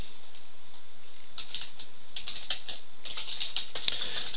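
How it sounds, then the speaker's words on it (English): Light, irregular keyboard tapping starts after a quiet second, with soft clicks scattered and bunching toward the end; no voices. "You can just follow along in typing what I'm typing."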